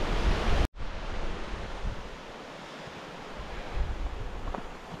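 Fall Creek flows below a forest highway in Oregon's Umpqua National Forest, giving a faint, steady broadband rush of water mixed with wind, distant and continuous after a brief cut at the start.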